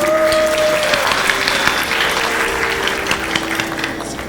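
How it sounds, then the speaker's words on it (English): An audience at a Bharatanatyam arangetram in Charlotte, North Carolina, applauds after a dance performance: a loud, steady wash of many hands clapping, with a fading instrumental drone at the start. "Let's give them a well-deserved round of applause."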